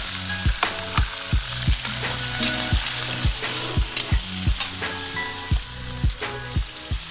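Green onion and green chili stir-fried in hot oil, a loud steady sizzle broken by regular sharp clacks of a spatula scraping the wok roughly every half second.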